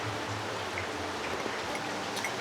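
Rain falls steadily outdoors on a cold day, a dense, even hiss of drops that holds at the same level from start to finish, with no voices.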